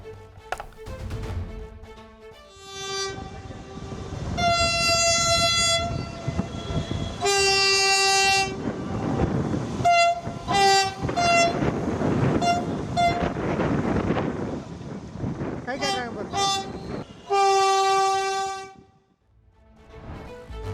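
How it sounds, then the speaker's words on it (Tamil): Chennai metro train on a trial run between Porur and Vadapalani sounds its horn in repeated loud toots, some short and some held, over the rumble and clatter of the moving carriages. "சென்னை போரூர் வடபழனி இடையிலான மெட்ரோ ரயில் சோதனை ஓட்டம் வெற்றிகரமாக நடைபெற்றது."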